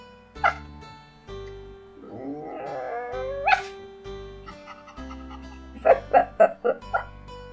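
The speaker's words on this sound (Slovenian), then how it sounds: "Kužki se igrajo z žogo." Cartoon puppies bark and yip in a quick burst of four or five sharp barks while playing with a ball, over cheerful music with sliding musical effects and a brief growl-like sound.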